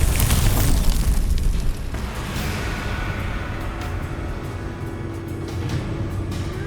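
A Bombarda spell explodes in Hogwarts Legacy, a loud booming blast that opens the clip and fades into a low rumbling tail under lingering game ambience.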